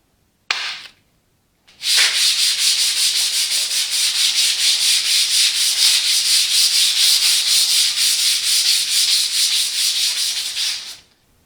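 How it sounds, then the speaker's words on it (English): Hand sanding a tractor radiator with 220 grit sandpaper: a brief scrape, a pause, then a long, steady run of rapid back-and-forth rasping strokes, loud and close, stopping abruptly after about nine seconds. "I'm working with 220 grit right now, hand sanding it"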